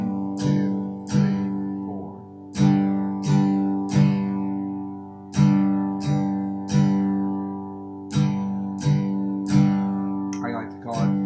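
Strummed guitar chords ring out in a repeating rhythm of two quick quarter-note strokes followed by a longer sustained half-note chord, each cycle repeated several times. The sound is close and clear.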